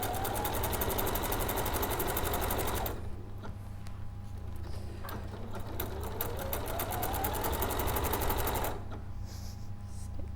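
A sewing machine runs in steady, loud continuous bursts as it stitches fabric toward a corner of a garment, with a pause in the middle before the motor picks up again.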